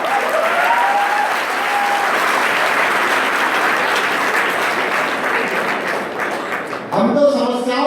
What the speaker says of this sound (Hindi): जरा एक बार सारा सदन मिलकर तालियां बजाएं।